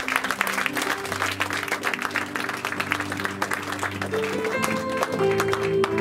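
Church congregation applause for Pastor Elvis, a lively wash of many hands clapping with some crowd noise, with sustained musical tones underneath.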